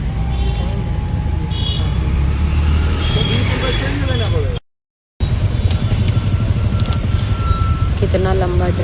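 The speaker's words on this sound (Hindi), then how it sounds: "कितना लंबा ट्रैफिक है।" Continuous road traffic noise from a long traffic jam near Kanpur, a steady broadband rumble of idling and slowly moving cars, buses and trucks with occasional faint horns, loud and close, briefly cut out partway through.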